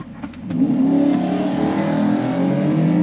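An Audi B9 S4 with a Stage 1 tune revs up and holds around 3,500 RPM before a drag-strip launch, a loud, close, steady engine drone that rises quickly and then sustains.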